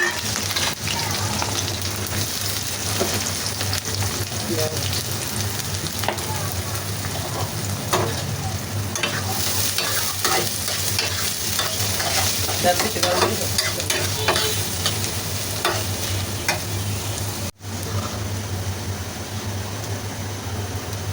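Onion and garlic frying in a pan sizzle continuously and close up, with frequent scraping and stirring clatter throughout and one brief dropout near the end.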